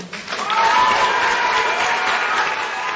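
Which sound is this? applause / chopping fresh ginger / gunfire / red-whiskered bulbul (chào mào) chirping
applause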